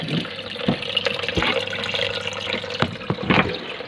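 Aquarium filter motor pumping water, giving a steady splashing, trickling flow with a few louder gurgles, close and continuous with no talking.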